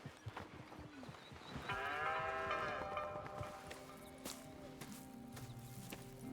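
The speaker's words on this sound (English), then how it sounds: "Here's the cows." Cattle on a ranch in the Red Dead Redemption 2 video game give a long, drawn-out moo amid low farmyard ambience, with quieter animal calls and faint rustling around it.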